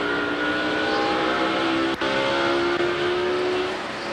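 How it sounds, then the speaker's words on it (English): A NASCAR race car engine drones steadily at high revs during the 2001 Pontiac Excitement 400, a loud continuous roar heard from close by with a sustained tonal hum and almost no variation. "The engine's running clean."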